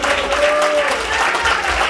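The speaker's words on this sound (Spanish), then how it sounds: "Ese aplauso es de gratitud a lo que Dios ha hecho en su vida." A church congregation applauds God during a sermon, a brief loud burst of dense clapping that stays even throughout.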